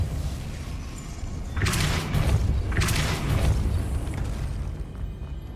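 A Depulso spell cast in Hogwarts Legacy lands as two deep, booming bursts over a low rumbling game backdrop, each blast swelling and fading within about a second.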